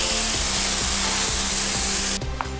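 A loud, steady hiss of water spraying onto a car panel before wet sanding with 600 sandpaper runs for about two seconds, then cuts off abruptly, leaving a faint background hum and a small knock.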